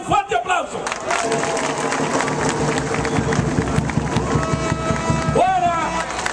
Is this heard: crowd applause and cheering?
yes